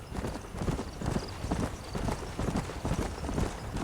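Horse hooves clip-clop at a steady trotting rhythm in the Western video game Red Dead Redemption, close and fairly loud, with faint game ambience and no speech.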